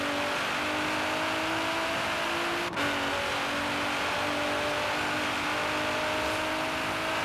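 A Pagani supercar accelerates in the racing game Forza Horizon 3, its engine holding a steady, loud, close whine with a brief dip near the middle as it shifts, alone without talk.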